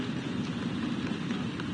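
Steady rain falling, a continuous soft hiss of drops on surfaces, even and unbroken, with no voices.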